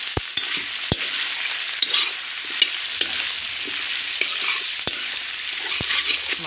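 Duck meat is stirred in hot oil for an Assamese-style curry, a low sizzle under sharp, irregular knocks and scrapes of a spoon against the pan, close by and with no talking.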